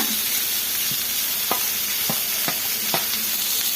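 Coconut frying for a soppu bassaru masala, a steady close sizzle with several sharp scraping stirs of a spatula in the pan.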